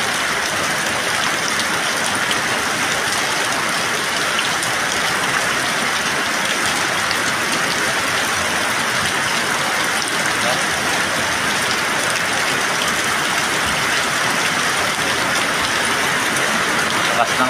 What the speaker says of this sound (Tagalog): So, lakas ng ulan.